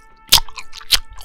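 Loud, wet chewing of 5 Gum sounds close to the ear, two sharp smacking chomps followed by softer squishy mouth noises.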